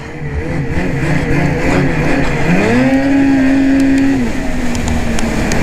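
Ski-Doo 2020 Backcountry XRS snowmobile engine roaring close by, holding a steady loud drone then rising in pitch as the throttle is opened for an attempted wheelie, sustained for several seconds before easing off.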